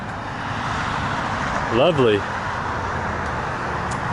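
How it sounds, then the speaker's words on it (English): Road traffic passing a nature trail, a steady roadside rumble with a vehicle swelling past near the middle, and a voice saying a single word. "And here comes all the traffic."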